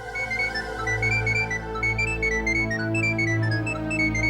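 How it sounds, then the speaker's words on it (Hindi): A phone ringtone plays inside an office, a repeating electronic melody of bright tones over a steady low hum, fairly loud and heard alone. "एक्सक्यूज मी शिफाली, मैंने तुम्हें कितनी बार बोला है ऑफिस में मुझे मत फोन किया करो।"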